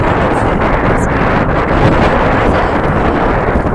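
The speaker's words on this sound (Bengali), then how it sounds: "সাংঘাতিক হাওয়া দিচ্ছে" Strong wind blows over the Padma River, buffeting the microphone in a loud, steady rush for the whole stretch with no voices.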